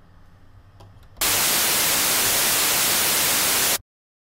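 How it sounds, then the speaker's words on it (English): Harsh, steady white noise from the noise generator of the Massive synthesizer starts abruptly after a quiet moment, holds loud and flat for about two and a half seconds, then cuts off to silence. "I can play some white noise"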